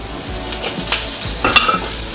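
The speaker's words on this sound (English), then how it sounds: "And then we saute the shallots," Shallots sauté in olive oil with a close, continuous sizzle, and brief scraping strokes of stirring come through over it.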